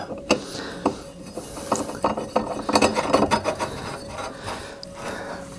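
A ratchet tightening bolts while a metal balance rack is assembled, producing quick bursts of clicking and rasping turns, loud and close, with short pauses between strokes.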